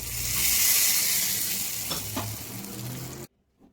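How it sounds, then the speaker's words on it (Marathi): Cumin seeds crackle and sizzle loudly in hot oil for tempering, a steady frying hiss that cuts off abruptly just before the end. "आता फोडणी देऊन घेऊया"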